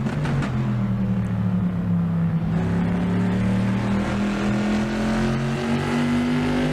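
Race cars in a Trans Am eChampionship racing game at Laguna Seca roar continuously, with engine notes rising steadily as several cars run close together. The sound is loud and sustained throughout.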